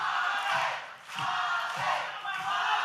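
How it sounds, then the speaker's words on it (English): A wrestling event crowd chanting a wrestler's name in a rhythmic, repeated two-beat chant, loud and massed with a slight dip midway. "this crowd chanting Suave"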